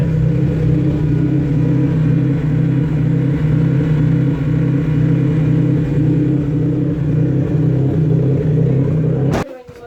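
An 800hp car engine idles high on its cold start map, a loud steady low rumble held close throughout before it cuts off abruptly at the end.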